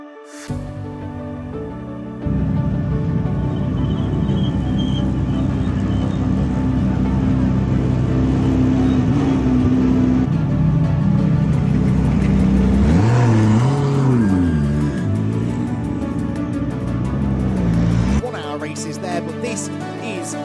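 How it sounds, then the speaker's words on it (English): GT race cars, more than thirty of them, run at Silverstone during a three-hour British GT race, loud engine drones swelling and shifting pitch as cars rev and pass close by, then a quieter tail at the end. "We've got 30 plus cars out on the circuit."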